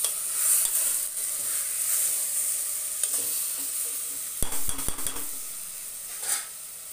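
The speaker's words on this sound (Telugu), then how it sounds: "స్టవ్ మీడియంలో పెట్టుకొని కలుపుకోవాలి." Moong dal and tomato curry stirred in a pan on a stove at medium heat, a soft steady sizzle with occasional spoon scrapes and a cluster of clinks toward the end.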